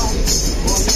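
A train pulling into a crowded railway station, heard as a loud, steady rumble of rolling stock with a faint voice mixed into the noise.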